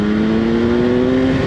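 A 2016 BMW S1000R motorcycle accelerates wide open in second gear on a highway on-ramp with a loud, steady, high-pitched engine roar heard close up throughout.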